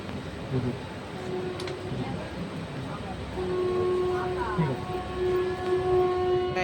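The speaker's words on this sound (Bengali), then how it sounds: "ট্রেন মনে হয় এবার ছেড়ে দেবে।" Jammu Tawi Express standing at Kamarkundu station: a steady rumbling drone of the halted train with a long tonal horn or whistle sounding partway through, heard from on board over continuous background noise.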